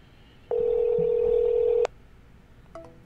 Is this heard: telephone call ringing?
yes